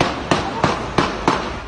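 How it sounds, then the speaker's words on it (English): Four sharp gunshots crack in quick, even succession at a street intersection near 26th and Lawndale in Little Village, each a loud percussive bang with a short echoing tail, heard from a moderate distance. "It's the same intersection where 7 gunshots went off."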